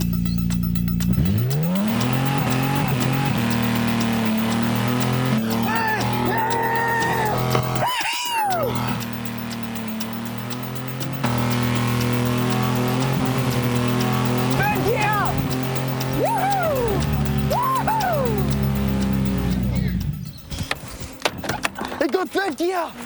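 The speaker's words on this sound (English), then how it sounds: "If I have third gear, the smoke will be up, and plus the tyres spin more" Burnout car on a competition pad, engine revving hard and climbing through gears with screeching, spinning tyres, loud and continuous for most of the stretch before cutting to quieter, choppier noise; excited voices shout over it.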